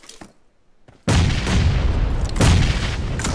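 A grenade detonates in the battle-royale game PUBG Mobile during a competitive tournament fight: a sudden loud, close blast breaks a near-silent moment, followed by sustained rumbling crackle and a second burst.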